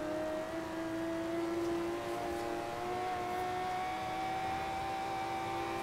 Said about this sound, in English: This is a BMW M4.